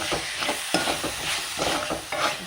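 A spoon stirs curry with tomato sauce in a frying pan, giving repeated scraping strokes over a steady sizzle, close and alone.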